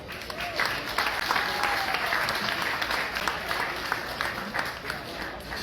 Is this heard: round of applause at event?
yes